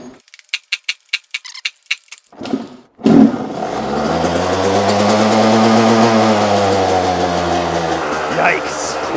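A motorcycle takes several sharp, rhythmic kicks before its engine catches, then settles into a loud, steady, close idle running rich.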